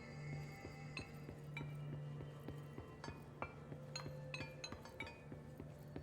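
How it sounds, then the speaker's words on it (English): Chairs in the video game Control clink like glass when they are knocked about: a string of bright, sharp chinks and rattles, some in quick clusters, over a low steady hum and with no speech. "Why do their chairs sound like they're made of glass?"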